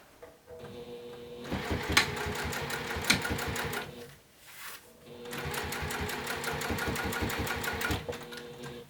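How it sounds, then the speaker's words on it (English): A sewing machine backstitches binding onto a bi-fold wallet, with a fast, rhythmic mechanical clatter that pauses briefly in the middle as direction changes, then runs on, close and moderately quiet. "I will backstitch to make sure I secure that folded edge that I got started."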